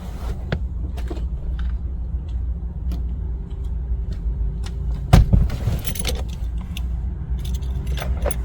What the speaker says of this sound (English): take the new unprogrammed key out of the vehicle and only keep the programmed working key in the vehicle